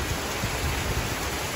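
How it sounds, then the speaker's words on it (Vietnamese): Heavy rain pours down outdoors in Duyên Hải, Vietnam, as a loud, dense, unbroken hiss that fills the whole brief moment with no gaps and no voices. "Mưa lớn rồi, mưa lớn."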